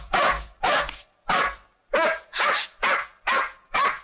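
Hunting dogs bark loudly and close, eight evenly spaced barks in a steady rhythm with short gaps of silence between them.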